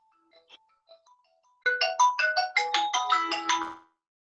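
A student's mobile phone ringing during an online physics lesson: a few faint scattered tones, then a loud melodic ringtone of rapid repeated notes that plays for about two seconds before cutting off, with no talk over it.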